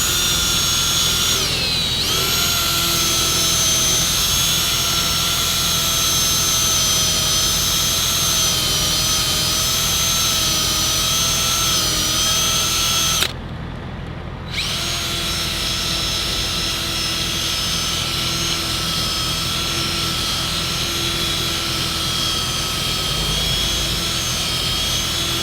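Rotary polisher run at full throttle while restoring semi-truck headlights, a loud steady high-pitched whine with a constant drone, briefly cutting out for about a second midway before resuming.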